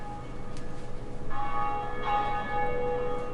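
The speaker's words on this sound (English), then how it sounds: "when you get up here to the first bell and you ring it" A large bell from the Dark Souls video game rings out in sustained, shimmering tones that swell and overlap, loud and alone with no voices.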